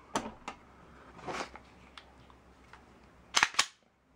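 Several faint, sharp trigger-reset clicks from a Smith & Wesson M&P 2.0 pistol close by, spaced irregularly with a quick double click near the end, over a quiet background.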